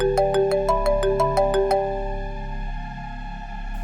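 A mobile phone ringtone for an incoming call from Rasul plays loud and close, a bright repeating melodic phrase of quick tones that then settles into a sustained tone.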